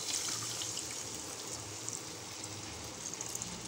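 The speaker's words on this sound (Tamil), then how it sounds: "புளி தண்ணி ஊற்றி நல்லா கொதிக்க வைங்க" Tamarind water poured into a simmering village-style fish curry over sautéed tomato and onion, giving a steady, fairly soft watery pouring and trickling hiss that runs alone throughout without any talk.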